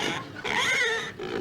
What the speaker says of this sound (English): A pig. A real live pig.